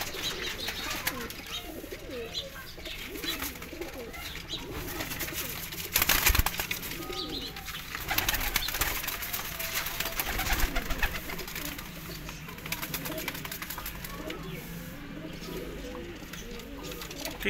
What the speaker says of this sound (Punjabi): ਕਬੂਤਰਾਂ ਦੀਆਂ ਖਲੋਣੀਆਂ